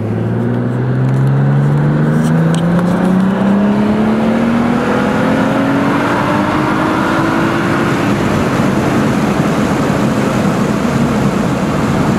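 A BMW race car with an automatic transmission accelerating hard at Laguna Seca, its engine note rising steadily as it climbs through the revs, loud and continuous from inside the car with constant road and wind roar.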